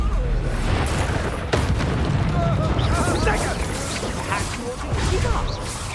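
Bombarda blasting-spell explosions in the Hogwarts Legacy video game, heavy booming bursts in dense spell-combat action, with a sharp crash near the start and rumbling impacts continuing under scattered voices.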